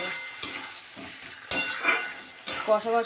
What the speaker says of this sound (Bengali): তাহলে পটল দিয়ে কষছি।